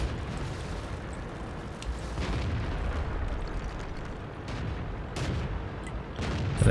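An M5 Stuart tank's ammo rack detonating in World of Tanks, a loud, sustained rumbling blast with several sharper bangs and booms crackling through it, no talk.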